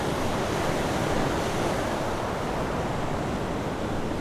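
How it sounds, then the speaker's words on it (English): Ocean waves surge in steadily at Dollar Cove, Cornwall, a loud, continuous roar of surf with no pause, mixed with some wind noise on the microphone close by. "Look at these waves coming in."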